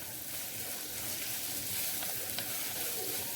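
Mixed vegetables with cabbage and green chili frying in a pan with garam masala, giving a steady, close sizzle throughout with a few soft stirring scrapes.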